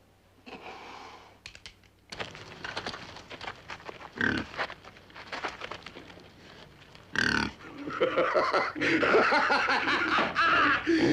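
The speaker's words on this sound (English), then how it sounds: "There's the pig coming back to say goodnight." Pig grunts and snorts come in bursts amid scuffling commotion, growing louder and busier toward the end.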